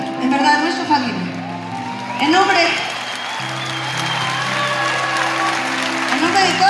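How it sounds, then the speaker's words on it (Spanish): A concert audience in Puebla applauds during a 2019 tour show, a crowd clapping that rises and fades beneath someone speaking into a microphone, with singing-like tones mixed through the applause. "Qué bonito aplauso"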